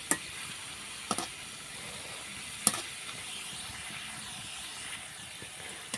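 Puffed flour snacks frying in oil give off a faint, continuous hiss and sizzle, with a few sharp clicks from utensils touching the pan.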